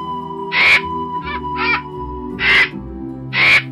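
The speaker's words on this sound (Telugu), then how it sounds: "కాకి తృప్తిగా నీరు తాగి దాహం తీర్చుకొని రివ్వున ఎగిరిపోయింది." A crow from an animated children's tale about a thirsty crow caws five times in loud, harsh bursts, with short gaps between calls and no talk.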